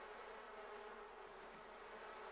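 Bees buzzing in The Sims 4 Seasons game, a faint, steady insect drone running through the whole moment with no speech over it.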